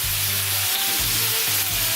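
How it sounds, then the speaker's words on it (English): Bacon frying in a pan for a Chinese New Year cooking session, a steady broadband sizzle with crackling fat running throughout, close and fairly loud, with a low hum and a few clanks and stirring sounds underneath. "So we've got our bacon here, which we're now going to put into the pan."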